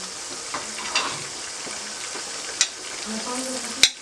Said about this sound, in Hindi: मैंने तकरीबन 1 मिनट के लिए इन सब चीज़ों को ऑयल में फ्राई किया है